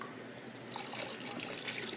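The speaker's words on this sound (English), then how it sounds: "pour it into the wort" Wort and yeast poured during all-grain home brewing, a steady liquid splash swelling midway and running on as a continuous pour close by.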